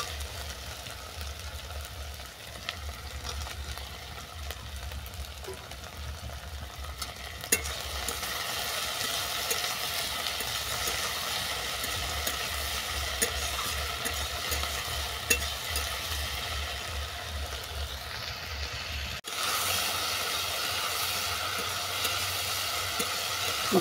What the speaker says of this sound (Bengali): ঢেঁড়স আর পেঁয়াজ ভালো করে ভাজা হয়ে যাওয়ার পর তুলে দেবো কেটে রাখা টমেটো।